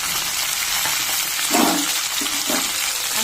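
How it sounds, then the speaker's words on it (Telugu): Drumsticks, radish and carrot pieces fry in a pan, a steady close sizzle with a couple of brief stirring scrapes partway through. "అన్నీ వేసి బాగా దోరగా వేయించాలి"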